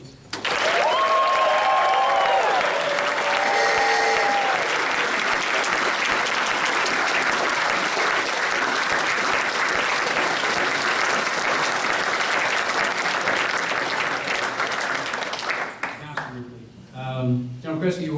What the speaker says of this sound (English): I'd like to give a special round of applause if you would all join me in a loud round of applause for our family members